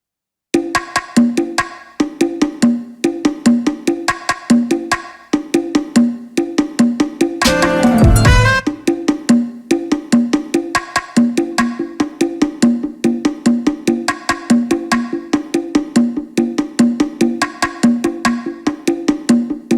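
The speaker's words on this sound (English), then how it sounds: "the bongos without the delay sound like this." Bongos play a steady solo pattern of rapid, crisp hand strikes without delay, close and consistent, with a brief burst of louder noisy sound midway before the pattern resumes.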